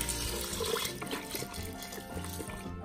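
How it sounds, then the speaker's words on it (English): Water is poured into a cooking pot of lentils, brown rice and veggie broth, giving a steady splashing trickle that runs the whole time at close range, with no voices. "I'm gonna add in 1 cup of water."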